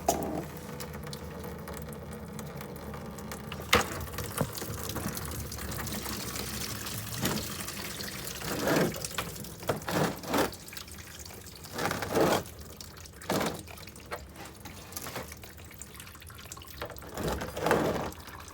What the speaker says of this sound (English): it's all mostly done draining into the little pan here